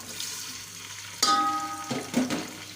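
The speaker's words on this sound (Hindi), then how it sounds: "अब हम जो है इसके अंदर अनियन ऐड करेंगे" Chopped onions drop into hot melted ghee for cholia pulao, setting off a sudden loud sizzle with a bright ringing clank, then steady frying hiss with a few stirring scrapes, no voices.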